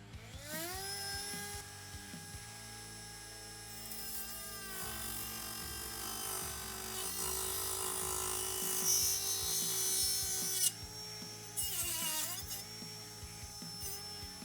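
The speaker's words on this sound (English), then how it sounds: "I just took the corner of this 2x4 off with this cutting wheel and it powered right through it" Dremel 8260 brushless rotary tool with a cutting wheel slicing the corner off a whitewood 2x4 stud: a high, steady whine with bright harmonics dips as the wheel bites into the wood, briefly drops off, then spins back up.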